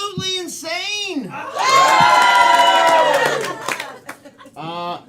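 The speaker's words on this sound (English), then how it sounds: "Welcome to First Coast Comedy, he said, as the crowd went absolutely insane." A comedy club crowd at a show erupts into loud whoops, yells and cheers that swell into a sustained roar, then fade into scattered shouts before a brief final burst.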